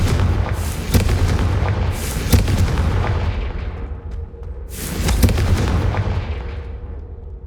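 Repeated fire-spell explosions from the Hogwarts Legacy video game, booming blasts recurring every second or two over a steady rumbling game backdrop, loud and close with no talk.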